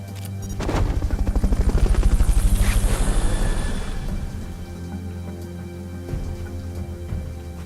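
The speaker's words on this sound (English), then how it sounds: "Fulton recovery helicopter is complete." A helicopter in the video game Metal Gear Solid Peace Walker swoops close with a loud, rapid rotor chop that swells to a peak and then fades, followed by quieter whirring and a few faint thuds.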